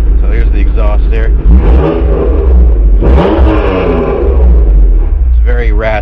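A loud, raspy Honda NSX exhaust revs up and down in bursts, with voices talking over the engine at times.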